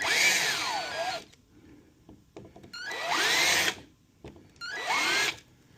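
A power drill cuts a chamfer for a screw in a pinball kit part, three loud whirring bursts of about a second each, with brief rising and falling motor pitch and short quiet gaps between them.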